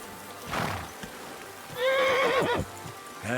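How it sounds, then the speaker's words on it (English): Horse whinnies in Kingdom Come: Deliverance II, a short snort followed by a loud, wavering neigh up close, then a brief start of another at the end. "Oh, is this his horse?"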